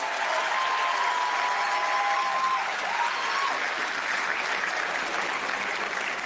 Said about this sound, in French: Merci de les applaudir encore, ces deux talents qui ont trouvé et le nom et créé le visage de cette mascotte.